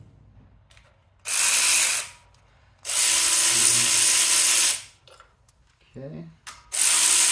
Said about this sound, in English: use my trusty old Harbor Freight electric ratchet that always works great